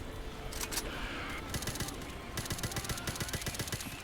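Automatic gunfire in a PC shooter video game: rapid machine-gun bursts rattle in steady strings of evenly spaced shots, fairly faint and continuous, broken by short pauses, with no voices.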